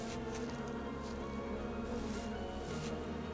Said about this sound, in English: I have to get away from the flies.